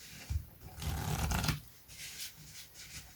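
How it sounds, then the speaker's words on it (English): A close, muffled riffle of playing cards, a short fluttering burst lasting about a second, followed by softer handling sounds. "This is referred to as the closed Riffle Shuffle."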